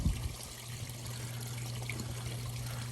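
Water trickles and pours steadily during a 50% water change on a 2,900-gallon koi pond, a soft continuous stream close by under a low hum, with no talking.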